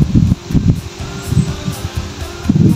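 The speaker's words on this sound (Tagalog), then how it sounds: "Grabe hangin, guys." Strong wind gusting along a coastal cove shore, rumbling in low buffeting bursts with a steady rustle of leaves underneath, loud and close, no talking.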